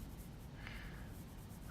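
Light pencil strokes rub softly across paper while shading a cylinder drawing, a faint continuous scratchy hiss at close range, quiet and steady with no talking.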